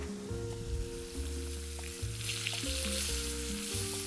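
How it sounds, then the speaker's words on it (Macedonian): Pork loin sizzles and fries in a pan, a close, continuous crackle over a background of soft music. "Свинското каре убаво се запржува."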